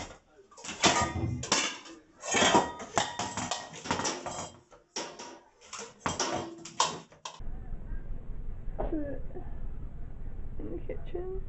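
Cutlery and kitchenware clatter in a home kitchen in a series of loud, sharp bursts of rattling and clinking, then give way to a quiet hum with a faint voice.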